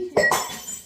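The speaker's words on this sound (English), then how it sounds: "I knocked a glass that was on top of the cooker with my elbow, and it just smashed into a million pieces" A drinking glass knocked off the top of a kitchen cooker hits the floor and shatters in one sharp crash, followed by a brief ringing tinkle of shards settling nearby.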